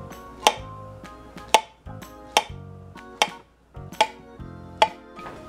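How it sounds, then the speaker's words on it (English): A knife slices through three fresh bananas on a cutting board, six crisp taps landing at a steady, unhurried rhythm, close and clear with near silence between them. "Here I placed the three fresh bananas on my board, and I now slice them."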